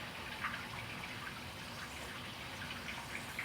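Water runs steadily into a water heater tank as it refills, a continuous gushing flow heard alone at moderate level.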